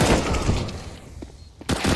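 Gunfire in Counter-Strike on the Inferno map during a competitive match: a dense rattle of shots with booming lows, slackening into a quieter gap before another loud burst cracks out near the end.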